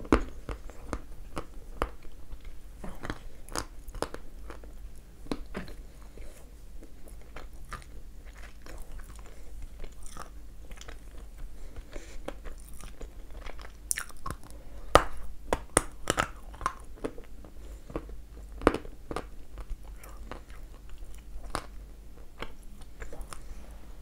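Dense piece of Ryzhik honey layer cake being bitten and chewed close up, with repeated crisp crunchy bites and soft mastication sounds spread across the span, no talking.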